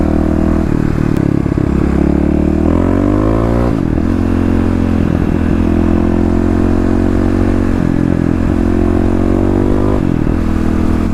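Fuel-injected Kawasaki KLX351 motorcycle engine revs close and loud, its pitch climbing and falling in repeated throttle blips over a steady rumbling idle, with no voices.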